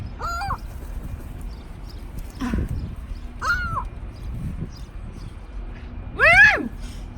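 Seagulls being fed bread in Weed, California, giving a few sharp calls spread apart, the loudest near the end, with quieter voices talking in the background.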